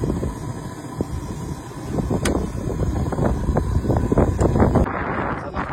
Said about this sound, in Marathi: जाम वारा येतं